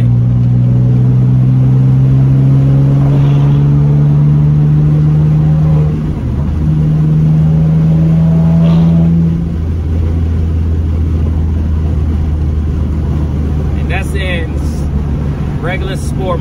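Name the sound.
BMW M3 exhaust revving while accelerating in sport mode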